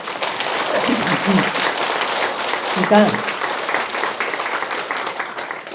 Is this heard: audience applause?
yes